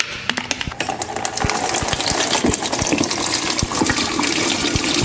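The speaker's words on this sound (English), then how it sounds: "we're going to dump the solution in our bucket" Battery solution is dumped into a bucket, making a continuous loud gushing, splashing pour with rapid irregular spatters and clicks throughout, no voices.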